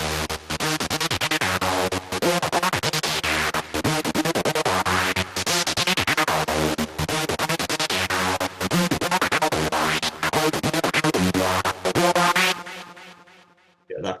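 A hard, distorted synth saw lead plays a repeating riff while a notch filter sweeps from high to low across it, loud and continuous, dropping away and fading out at the very end.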